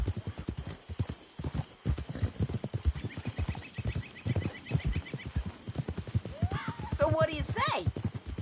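A horse in Red Dead Redemption 2 moves at a brisk, rhythmic clip-clop of hooves throughout, then lets out a clear neigh near the end, with someone speaking briefly over the hoofbeats.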